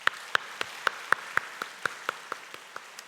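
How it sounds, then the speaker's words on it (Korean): Slow, sparse clapping from a church congregation in Daegu during a Sunday service, a dozen or so distinct claps at an even pace, fairly faint, with no voices. "우리 박수로 환영하겠습니다"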